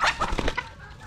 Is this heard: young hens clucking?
yes